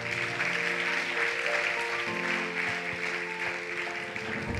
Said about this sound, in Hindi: पहले तो तालियां बजाते हैं